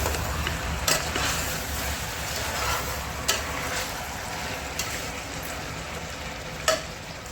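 Chicken masala frying in a pan with onion and tomato, a steady sizzle under occasional sharp clinks and scrapes of a spoon stirring against the metal, close and continuous with no talking.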